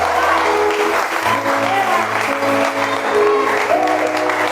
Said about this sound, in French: Donnons-lui une offrande spéciale d'acclamation.